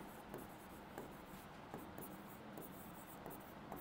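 Chalk or marker writing on a board during a physics class, light scratchy strokes and taps in quick irregular bursts, quiet and close.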